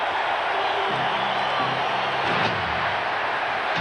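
A basketball arena crowd roars during a playoff timeout, a dense and steady wall of cheering and shouting. A few thuds and faint voices sit inside the din.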